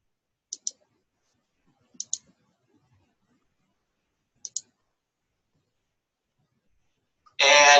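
Three quick mouse clicks, two pairs and a single, sound close and crisp at a computer while opening database tools, followed by a brief loud burst at the end.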